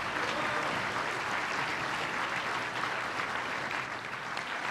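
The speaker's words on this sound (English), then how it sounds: "Let's give the Vice President another round of applause." Sustained audience applause for the Vice President at a New York event about rebuilding LaGuardia Airport, a dense steady wash of many hands clapping at even loudness, fading slightly at the end, with no voices on top.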